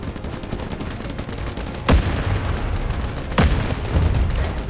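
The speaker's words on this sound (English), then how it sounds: "Requesting artillery barrage! Roger that. Artillery barrage incoming." Artillery barrage in the Delta Force Mobile video game, with two sharp explosive blasts about a second and a half apart over a dense, continuous roar of distant gunfire and rumbling battle noise.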